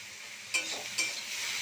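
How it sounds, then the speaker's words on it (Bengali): Turmeric is mixed into a sizzling pan of okra and potato, a soft steady frying hiss with two brief scraping strokes of a spoon. "হলুদটা দিয়ে ভালো করে মিশিয়ে দেব। এইভাবে লাল লাল করে ভেজে নিতে হবে।"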